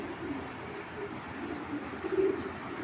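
A large Cheetah military male tournament pigeon gives soft, low cooing, quiet and close, with a slightly stronger burst of coos near the end and no talk.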